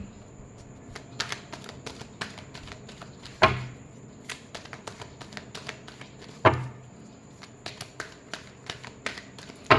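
Tarot cards are shuffled close up in crisp, irregular bursts of riffling and flicking, and a few sharper slaps land as the cards are squared and tapped. The sound is fairly quiet, with no talking.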